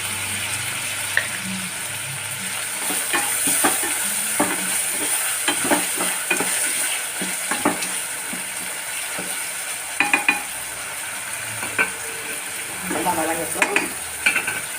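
Tomatoes sauté in a pan for semiya khichdi with a close, continuous sizzle. Repeated scrapes and knocks of a stirring spoon against the pan break through the sizzle, and nobody talks.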